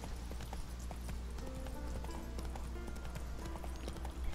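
Rhythmic clip-clop of horse hooves trotting at a steady pace in The Witcher 3 video game, fairly quiet against a low background rumble.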